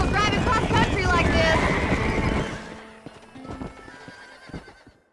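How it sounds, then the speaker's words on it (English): A horse-drawn wagon rolls along in Red Dead Redemption, with a horse whinnying and steady clip-clop of hooves over rattling wheels. It is loud at first, then fades into quieter, scattered hoof and creak sounds, with speech present. "I don't know if this wagon can handle driving cross country like"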